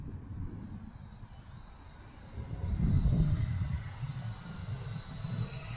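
A small BLH S1 MAX FPV drone flying outdoors in wind, its motors a low buzzing drone mixed with wind rumble that swells briefly before settling, no talking.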